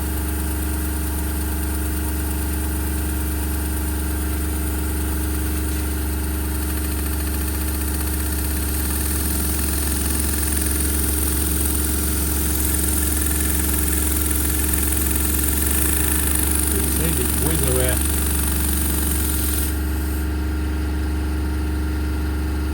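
A Microcosm V twin oscillating steam engine running on very low pressure, around 20 psi, gives a steady close mechanical hum and fine rapid chuffing that holds evenly throughout with a brief rattle late on.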